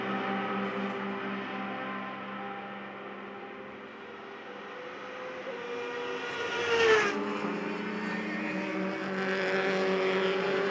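Prototype class race cars at the 2020 SCCA National Runoffs at Road America roar past, a sustained high engine whine with a sharp Doppler sweep as one car passes close midway.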